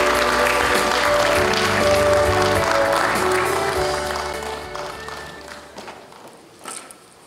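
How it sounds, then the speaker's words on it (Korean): An audience at a university doctoral degree ceremony applauds with loud, sustained clapping over a musical backdrop, the sound gradually thinning and dying away into scattered claps. "이사장 스님을 큰 박수로 모시도록 하겠습니다."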